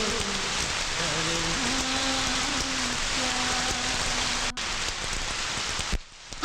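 Heavy rain falling steadily and loudly in an outdoor film scene, with a musical score underneath that cuts off near the end.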